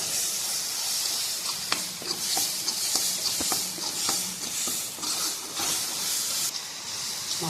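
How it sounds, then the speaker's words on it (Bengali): Ground cumin and coriander frying with a little water in a pan, producing a steady close hiss and sizzle with scattered pops and light ticks of a spoon throughout. "ওই জলেই হয়ে যাবে ভাজা।"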